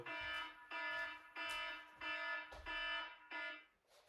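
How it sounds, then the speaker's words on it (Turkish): A loud electronic alarm rings in repeated harsh buzzing bursts, about six in a row with brief gaps between them. "alarm çalıyor"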